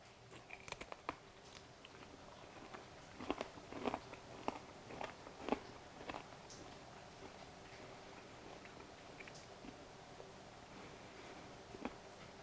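Homemade smoked bacon, smoked on a Big Joe grill, being chewed close up: soft irregular crunchy bites clustered in bursts, fading to quieter chewing, with no talking.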